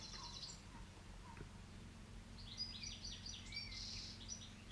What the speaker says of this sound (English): I love the birds. I love when they're out.